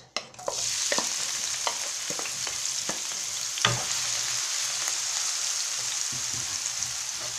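Onion frying in about three spoons of hot oil for a vegetable gratin: a loud, steady, hissing sizzle fills the clip, with a few light taps and stirring clicks near the start.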